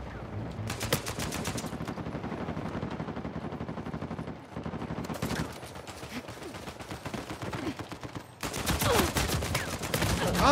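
Gunfire in an Uncharted 4 online multiplayer team deathmatch on a rooftops map, loud rapid automatic bursts separated by short pauses, with the heaviest fire at the start and end.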